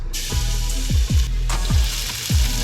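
Garlic and onions fry in a hot pan over medium heat with a steady, close sizzle, broken by a few low swooping tones and scrapes. No one speaks.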